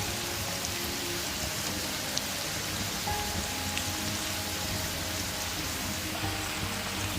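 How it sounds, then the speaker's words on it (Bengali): Chicken pieces for Thai fried chicken deep frying in hot oil, a dense, steady crackling sizzle like heavy rain that holds evenly throughout at close range, with no voices. "তেলটা পর্যাপ্ত পরিমাণে গরম করে তার মধ্যে আমি চিকেনের পিসগুলোকে একটা একটা করে দিয়ে দিব"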